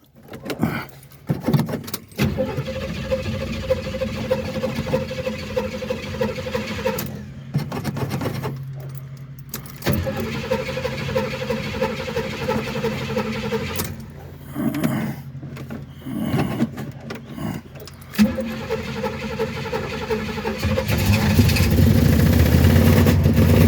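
A 1971 Buick Skylark with a 455 engine cranks in bursts, then catches and settles into a loud, steady idle close by. Keys jangle near the start.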